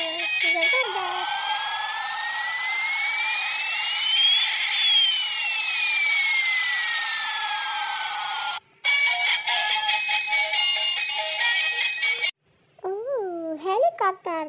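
A toy helicopter flies with a steady electronic whir and sweeping siren-like tones that rise and fall, cut by a brief gap, then a child-like voice talks over short bursts near the end.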